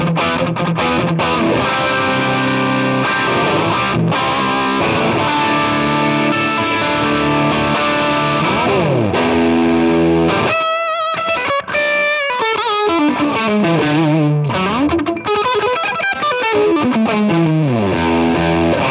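Electric guitar played through an amp dialed toward a Marshall sound with the gain all the way up, heavily distorted sustained chords and melodic runs, loud and continuous with no talk.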